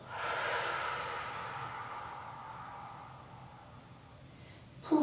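A long, slow breath pushed out during a Pilates exercise, close to the microphone, fading gradually over several seconds and ending with a faint rustle.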